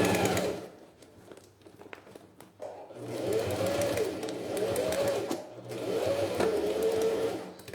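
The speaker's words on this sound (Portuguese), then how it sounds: "finalizei a costura da lateral" Sewing machine stitching the side seam of a beach pouch with a clear vinyl window, bursts of loud whirring motor hum in two long runs with a short pause and softer handling sounds between them.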